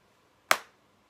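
A single sharp clap of a teacher's hands in a kindergarten classroom, crisp and close, sounding alone against a quiet room.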